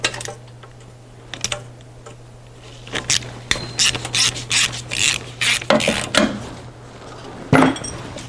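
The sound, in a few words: undoing bolt with ratchet on Sprinter van engine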